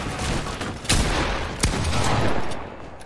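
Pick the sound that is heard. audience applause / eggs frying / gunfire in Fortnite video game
gunfire in Fortnite video game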